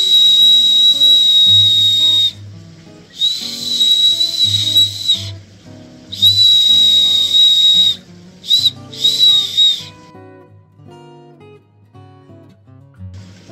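A whistle carved from a cherry plum fruit stone gives several shrill, piercing blasts of a few seconds each, separated by short pauses, loud and close.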